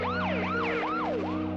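An ambulance siren wails in fast repeating sweeps, about four cycles, loud and close over a steady engine hum, with no talking.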